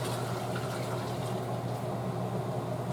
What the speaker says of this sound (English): I'm just getting my hot water to put in my sink in my jars